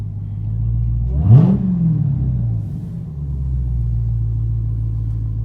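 A 2018 Dodge Demon V8 engine rumbles low and steady, with a brief rev swelling up before settling back to a deep idle.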